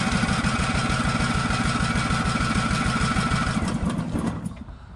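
A Dayton generator's engine cranks in a fast, even, rhythmic chug for about four seconds before winding down and stopping; no voices are heard.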